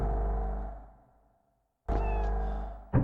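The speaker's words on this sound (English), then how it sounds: "I heard a kitty cat" A cat meows in the video game Echo Night: Beyond, two clear calls separated by a short silence, close and loud over a steady low game-ambience hum.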